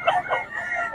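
Rooster or chicken crowing and clucking at a market stall in the Bocaue tiangge, a short close call of about a second with two bursts, slightly under a busy market background.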